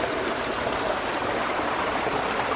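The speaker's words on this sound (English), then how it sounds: "Wow, so many channels of water through here." Steady, close rush of stream water flowing through many channels in woodland, a dense continuous babble with no voices.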